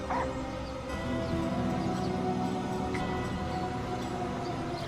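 Dog barking and yipping in the fantasy role-play game Divinity: Original Sin Enhanced Edition during a turn-based fight, continuous barks and whimpers over a dense bed of game music and combat noise.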